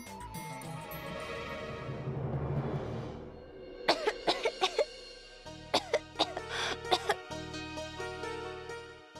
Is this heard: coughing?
yes